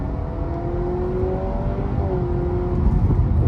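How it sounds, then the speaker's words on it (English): A 2025 Honda Civic Touring Hybrid with a CVT accelerating in sport mode, its engine giving a steady droning whir with rising tonal lines, heard from inside the cabin with no talk. "That CVT kicking away. Got some good torque."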